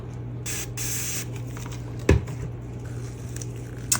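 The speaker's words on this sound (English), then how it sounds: "I'm gonna spray my mold with alcohol." Short hissing bursts of alcohol from a spray bottle puff out several times onto a resin mold over a low steady hum, close and moderately loud.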